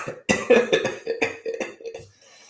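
Several bursts of coughing close into a microphone, spread across a couple of seconds, loud with short pauses between fits.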